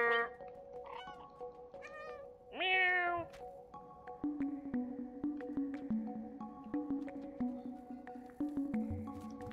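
A cat meowing in the video game Stray, several clear meows in the first seconds, followed by soft game sound effects and faint tapping over a quiet background.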